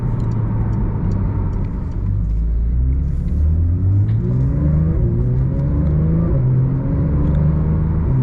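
Porsche 992 GT3 Touring naturally aspirated engine accelerating under a bridge, rising through several gears in repeated climbing sweeps, loud and close with a deep rumble and no talk.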